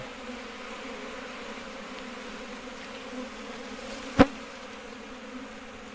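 Cavity-nesting honeybees circling their new hive box, a steady soft buzzing hum filling the air, with one sharp brief tap partway through.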